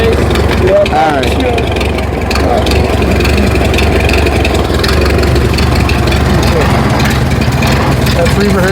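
A Ford Model T engine runs at idle close by, a steady low rumbling chug that continues throughout while voices talk over it.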